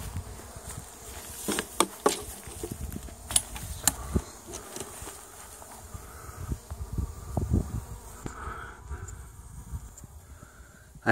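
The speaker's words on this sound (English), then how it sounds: "it is loaded with bees under that." A dense, steady hum of many honey bees buzzing close by under an entrance hive feeder, with individual insects zipping past and swelling louder now and then.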